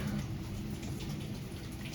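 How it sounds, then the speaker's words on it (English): Steady rain falling on a rainy day, a continuous broadband patter that stays even and fairly quiet throughout, with no voices or other sounds over it. "It's a rainy day"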